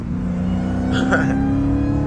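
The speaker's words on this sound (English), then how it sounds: "Y'all hear that demon exhaust?" A Dodge Demon engine drones steadily with a low exhaust hum, rising briefly in a short rev in the middle, heard up close with a voice faintly present.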